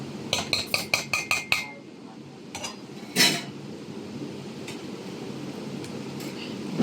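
Metal cutlery clinks rapidly against plates and pots while dal is served with rice and fried potatoes, a quick run of sharp taps followed by a louder clatter, then quiet.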